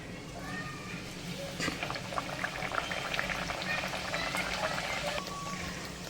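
A spiced puri drops into hot oil and fries with a steady bubbling sizzle, a sharper crackle flaring as it enters, and a voice talking over the frying.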